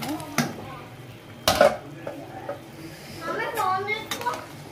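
Soy chunks drop into a pot of simmering tomato curry with sharp clinks of a spoon and pot, soft stirring and bubbling between the knocks, close by.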